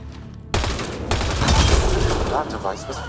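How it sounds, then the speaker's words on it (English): Gunfire in Mass Effect Andromeda rings out as a Ket device is shot, a loud sustained burst of rapid shots that rises, holds and then fades. "Shooting the device will destroy it."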